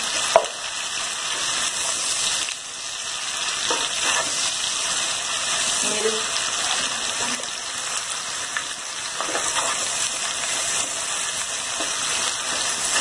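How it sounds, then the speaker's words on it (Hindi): Meat with a pinch of salt frying in a pan for Delhi-style aloo gosht, giving a steady, close, continuous sizzle that holds at an even level with no talking over it. "और हम इसको फ्राई करते रहेंगे।"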